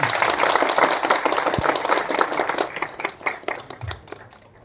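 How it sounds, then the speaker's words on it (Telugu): An audience claps together in a sustained burst of applause that starts loud and dense, then thins out and tapers off toward the end, with no voices over it. "అందరూ చప్పట్లు కొట్టుకున్నారు సార్"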